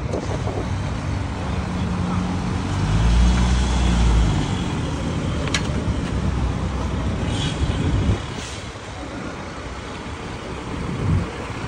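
Trucks queue on a road, engines rumbling low and steady nearby while wind buffets the microphone, with a swell of heavier engine noise partway through and a brief sharp hiss near the middle.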